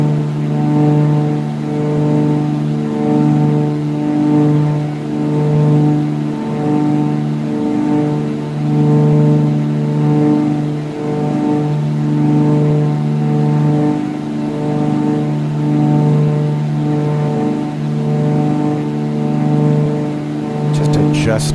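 A Beech Baron's twin engines run at a steady drone with strong low tones and a slow rhythmic beating as the props drift in and out of sync, continuous and loud throughout.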